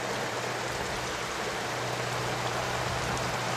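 Steady, dense rain falls without pause, a broad unbroken hiss with a low constant hum beneath it, close and even throughout with no voices.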